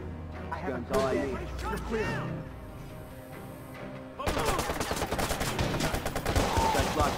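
Gunfire in the video game Watch Dogs, with sniper shots in a firefight: someone talks excitedly at first, then dense rapid bursts of shots and impacts take over loudly for the last three seconds.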